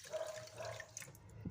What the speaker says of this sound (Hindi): और अब हम इसमें 2 कप पानी